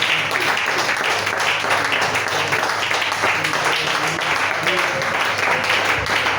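A church congregation applauds and acclaims the Lord in a steady, dense wash of clapping and voices that fills the whole stretch at an even loudness.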